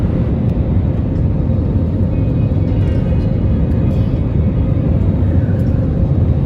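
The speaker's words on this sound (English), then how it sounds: "Finally, the rear wheels touched the ground." Airliner touching down at Bagdogra Airport, a loud, steady low rumble of engines and wheels on the runway filling the cabin without a break.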